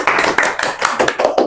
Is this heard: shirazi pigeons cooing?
no